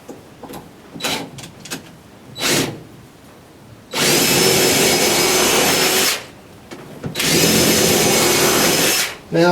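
Power drill driving screws into wood, two long loud whirring bursts of several seconds each, preceded by quieter handling clicks and knocks.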